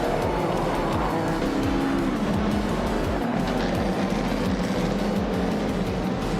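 A 1950 Ferrari 125 F1 race car in a racing video game, its engine loud and continuous, rising and falling in pitch through repeated gear changes, with hints of tire squeal.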